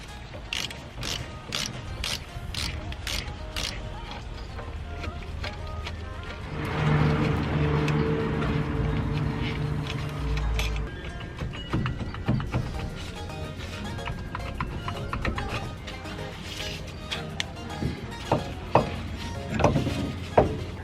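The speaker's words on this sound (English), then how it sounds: "there's actually 2 bolts that I need to take off before I can actually take the caliper off the" Wrench work on brake caliper bolts at a car's wheel, with steady ratcheting clicks and metallic mechanism noise running throughout, denser clicking bursts near the end, and no talking.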